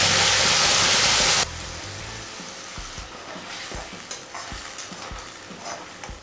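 A paste of onion, tomato, green chilli, ginger and garlic fries in oil for a chicken kofta curry, with a loud burst of sizzling at first that settles into steady frying and repeated stirring scrapes.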